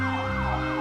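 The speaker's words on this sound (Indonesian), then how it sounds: "suara sirine ambulan terdengar di latar belakang" An ambulance siren wails steadily with a wavering, rising and falling tone under low road rumble, loud and close for under a second, with no voices.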